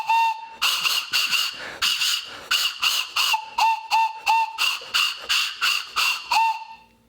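Shrill carrot whistle blasts repeat in short bursts, around a dozen airy, squealing toots with breathy hiss, some sliding in pitch, close and fairly loud.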